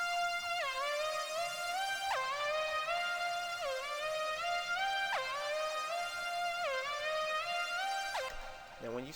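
Bright synth lead on the hook of a Zaytoven-style trap beat made in FL Studio, playing a repeating stepped melody with sharp pitch drops, steady and loud with no talking.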